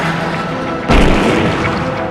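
A huge 19-ton cannon with an 8.2 m barrel fires a stone cannonball of over 500 kg, one deep, loud boom that bursts in abruptly and then rumbles on briefly before fading.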